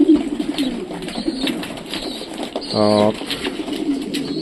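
Pigeons in a loft, with a short, loud coo rising clearly around the middle amid softer bird rustling, while someone talks throughout.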